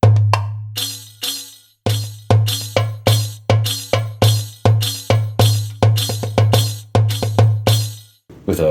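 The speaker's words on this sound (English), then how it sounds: "There's a darbuka." Darbuka sounds from a Roland HandSonic HPD-20 electronic hand percussion pad: a deep resonant low tone followed by a rapid, rhythmic pattern of sharp slaps and taps, loud and close, played alone.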